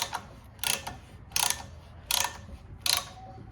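A caliper piston compressor tool ratchets outward on the quad-piston brake caliper of a GMC Canyon or Chevy Colorado, five evenly spaced bursts of sharp close ratcheting clicks, about one every three-quarters of a second, with quiet gaps between.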